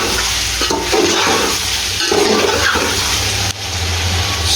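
Fresh tomatoes and curry leaves drop into a hot pot of chicken biryani, a loud wet sizzle and hiss with stirring scrapes, close and continuous.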